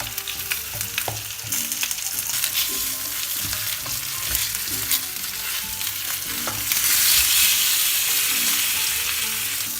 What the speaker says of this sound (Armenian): Պղպեղները նույնպես տապակում ենք մինչև փափկելը և բոլոր կողմերից կարմրելը